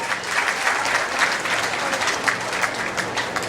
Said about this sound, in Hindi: जरा तालियां बजाकर उनका स्वागत करें